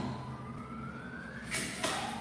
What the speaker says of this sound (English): There's alarms going off outside.